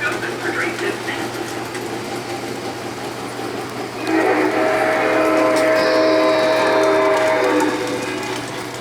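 Model train rolling through a museum layout, a steady mechanical rumble joined midway by a louder rush with a sustained whistle-like tone, under faint background talk.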